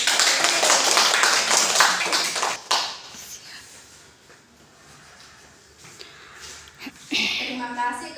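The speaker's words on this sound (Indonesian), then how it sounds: "Mari kita berikan aplaus" Classroom applause during a microteaching lesson: a burst of many hands clapping, loud and busy, fading into quieter room noise before a short final flurry of claps returns near the end.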